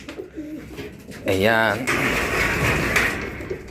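Pigeons kept for breeding coo in a low rolling call that rises over a steady background, while someone speaks a single short word.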